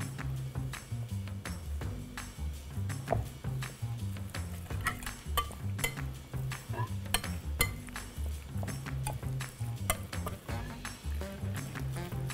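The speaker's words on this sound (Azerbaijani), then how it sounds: "Və ən əsas ispanağımızı əlavə edirik. Və qarışdırırıq." Spinach is stirred in a pan for a fisinjan dish, with repeated scraping and clinking of a utensil against the metal over a steady background, while music or a voice plays underneath.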